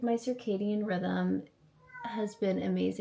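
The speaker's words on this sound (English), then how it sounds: "If you hear that in the background, that is my cat." A cat meows insistently in the background, its meows mixed with and partly masked by someone speaking.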